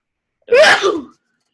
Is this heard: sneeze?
yes